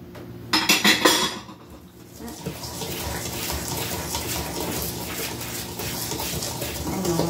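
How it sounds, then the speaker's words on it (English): Cracker Jack cookie batter is mixed in a bowl, opening with a burst of clattering utensil knocks and then a steady, dense churning and scraping that runs on without a pause. "Mix her up until it's nice and smooth, no lumps, bumps, and whatnot, no ridges."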